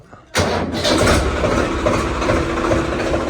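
A 4x4 tractor's diesel engine fires up on its electric self-starter: a sudden loud catch after a brief quiet moment, then a rough, steady running rumble close by.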